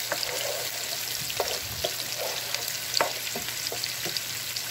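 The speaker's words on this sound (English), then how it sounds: "Onion becomes light brown color," Onions frying in a pan for chicken biryani, a continuous sizzle with occasional stirring clinks and scrapes, close and moderately loud.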